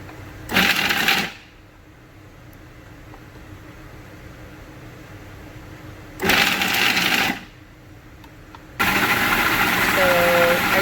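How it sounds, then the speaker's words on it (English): Food processor pulsing almonds for homemade pesto, giving three loud, bright whirring bursts about a second long each, separated by quieter gaps, with the last burst running on to the end. "I just put a third of a cup of almonds in the food processor"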